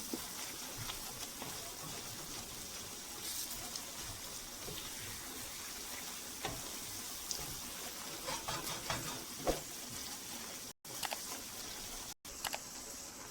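Minced meat frying in a pan for keema, a continuous hiss with scattered crackles and occasional stirring clatter, close and fairly quiet, with no voices.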